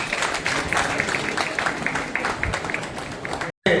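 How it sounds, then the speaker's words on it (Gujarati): Applause at a Lions Club of Nadiad felicitation ceremony, a crowd clapping steadily and fairly close for a few seconds, then a brief silent gap and a short return of sound. "તાળીઓ."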